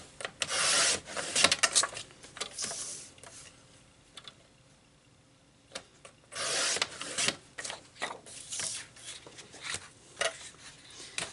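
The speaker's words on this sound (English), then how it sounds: "So I'm trimming it out." A paper card is trimmed with a few bursts of close rubbing and scraping cuts separated by quiet pauses, faint and with no speech.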